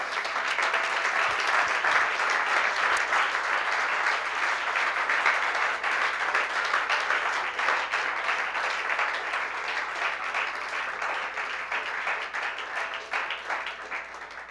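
Church congregation applauding together at a service, sustained even clapping from many hands that carries on steadily for well over ten seconds before easing slightly.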